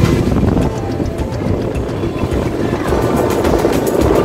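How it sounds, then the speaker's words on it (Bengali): Inside a non-AC coach of a Jan Shatabdi train running at full speed, a loud, constant roar of wheels and rushing air fills the carriage without a break. "ট্রেনটি আমাদের ফুল স্পিডেই চলছে"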